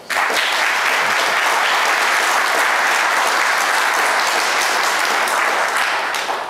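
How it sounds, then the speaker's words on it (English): Audience applause fills a Ward 6 civic hearing on human services, a loud, dense, steady clapping that starts abruptly and holds evenly for several seconds before tapering slightly at the end. "Let's give them a round of applause."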